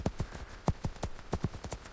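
Horse hooves clip-clop in a quick, steady rhythm, close and distinct, with no voices over them, as a storytelling sound effect.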